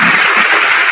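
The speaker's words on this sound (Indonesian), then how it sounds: "udah tepuk tangan" A church service audience applauding, heard as a short, loud, dense burst of clapping from many hands.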